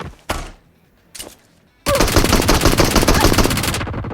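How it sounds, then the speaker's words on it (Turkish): A P90 fires in PUBG Mobile. Two single shots come first, then a sustained loud, close automatic burst lasting a couple of seconds. "P90'la vuruyorum arkadaşlar"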